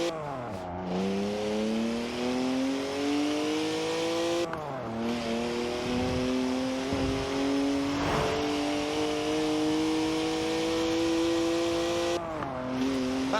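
A BMW 1M with a 335-horsepower twin-turbo engine in the Forza Horizon 4 racing game, drifting sideways with a loud, steady engine drone rising through gear changes, shifts dropping the pitch near the start, middle and end.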